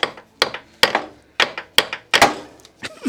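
Repeated sharp metallic blows of a copper hammer on a Honda Civic B20 VTEC engine pulley, about eight strikes at a quick irregular pace, loud and close with short ringing decays.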